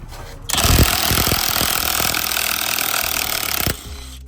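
Power impact tool removing the size 21 steering wheel bolt on a 2015 Hyundai Sonata, a loud continuous rattling buzz running about three seconds close up, starting and stopping abruptly.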